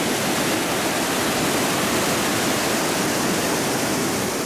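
The Caxile river flowing past a rest stop on its bank, a constant, loud, broadband rush of water that stays even throughout with no voices.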